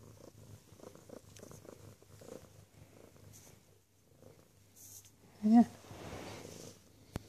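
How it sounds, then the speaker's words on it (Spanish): A cat purring in a low, continuous rumble close by, with soft rustling and a brief louder snort-like burst near the end; no speech. "¿Quién ronronea tanto?"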